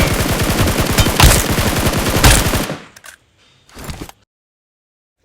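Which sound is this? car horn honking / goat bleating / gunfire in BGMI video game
gunfire in BGMI video game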